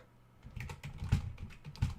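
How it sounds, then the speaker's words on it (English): Soft, quick keystrokes on a computer keyboard, an uneven patter of taps heard close but quiet. "Sorry if I'm typing slow."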